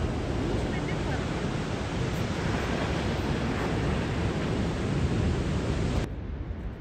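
Ocean surf on a beach at sunset gives a continuous broad roar of breaking waves with wind rumbling against the microphone, loud and steady until it drops off abruptly near the end.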